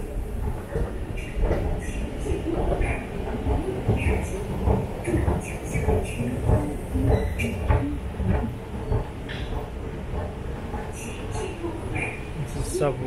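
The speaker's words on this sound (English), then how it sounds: "It's a subway." Inside a subway station in Shanghai, a steady rumbling hum of rail transport fills the space, with occasional clanks and knocks, while people talk in the background.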